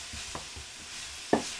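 Chicken and mushrooms sizzling in a pan with a few soft scraping stirs and one sharper clack of a utensil, close up.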